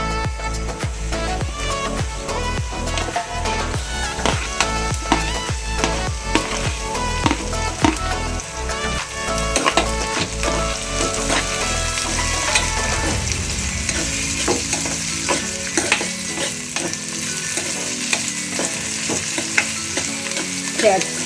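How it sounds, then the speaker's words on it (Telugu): Capsicum and golden-browned onions fry in a pan with a continuous loud sizzle and repeated stirring scrapes throughout, later settling into a steadier hiss. "ఈ కలర్లోకి వచ్చిన తర్వాత క్యాప్సికం వేసుకోవాలి"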